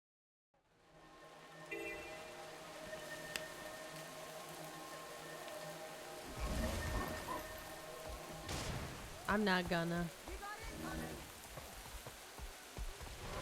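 Steady rainfall in a Guild Wars 2 game world hisses as a continuous backdrop, joined by brief voices and game sounds partway through.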